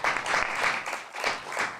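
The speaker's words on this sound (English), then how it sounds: "so you might want to hold your applause till the end" Audience applause at an awards ceremony, broad steady clapping from many hands that swells and dips slightly across the short stretch, fairly close and continuous with no voices over it.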